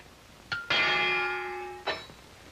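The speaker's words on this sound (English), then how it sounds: "And here's the bell!" A boxing ring bell at the start of a round rings out in a 1942 film: a sharp single clang with a sustained, slowly fading metallic ring, then a second quick strike, faint and slightly distant.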